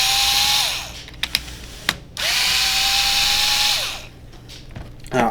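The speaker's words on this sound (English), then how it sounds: "I happen to have mine in a drill. And we're just going to take these three screws out real quick." Cordless power drill backing out three small Phillips housing screws from a WAHL KM cordless hair clipper, heard as close whirring bursts with short pauses and clicks between them.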